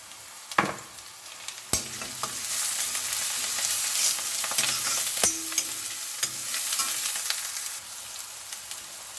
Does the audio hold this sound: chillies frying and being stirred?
yes